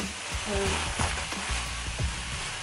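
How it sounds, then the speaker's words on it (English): Eggs and bacon fry in a pan with a close, steady sizzle and crackle, plus a few soft scrapes and knocks, with a voice faintly heard under it. "Then I'm gonna make me 2 eggs with 2 pieces of bacon."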